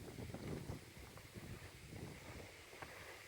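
Wind gusts across a floating boardwalk in a marsh, a steady rumbling buffet with heavy low-end microphone noise and irregular surges, no talking.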